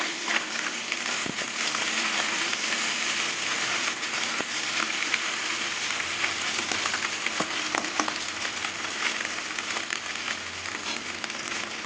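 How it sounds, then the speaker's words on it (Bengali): Small chuno fish fry crisp in a pan with a continuous, even crackling hiss that stays close and steady throughout, with no voices. "এই চুনো মাছগুলো কড়া করে ভাজবো"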